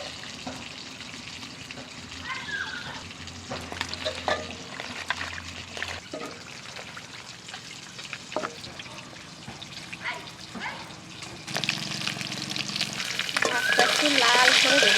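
Chunks of shol fish, salted and thickly cut, sizzle as they fry in a pan, with stirring clatter and crackle that intensifies toward the end as the oil grows louder.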